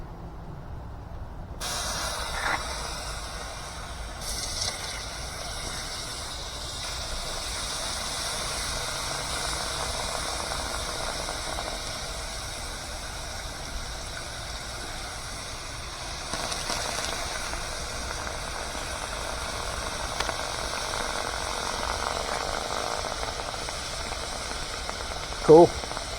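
Hot refined gold material quenched in water, a long broad steady sizzling hiss that swells and lingers as it cools, fairly loud with occasional small pops and some speech.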